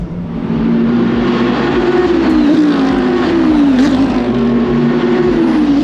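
Race car on the Hockenheim circuit during a grid-setting session, a loud sustained engine drone that rises and falls in pitch as it sweeps past, continuous for several seconds with no talk.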